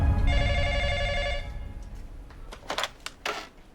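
A telephone rings in a hospital emergency room in a TV drama, with one bright, electronic ringing burst. After the ring stops there are a few quieter clicks and knocks.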